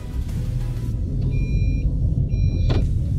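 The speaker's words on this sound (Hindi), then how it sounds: "देख सकते हैं आप, मैंने गाड़ी को स्टार्ट कर लिया है। अब मैं फर्स्ट गियर लगा रहा हूँ" A car engine running just after being started, with first gear engaged and the handbrake released, gives a steady close low rumble with faint high whining tones above it and no talk.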